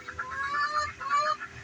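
Ducks in a winter chicken run give a quick burst of nasal honking quacks, fairly close, with faint background noise and no talking.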